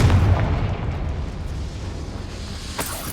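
A Confringo spell blast in Hogwarts Legacy, heard as a loud booming explosion at the start that fades into a sustained rumble, then a sharp crack near the end.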